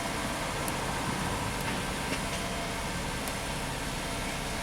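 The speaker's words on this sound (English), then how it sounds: "Now why is it idling high, Keith?" Dodge Caravan engine idling high after a new PCM was fitted, a steady, even engine drone with a broadband hiss and no change in pace, running alone without voices.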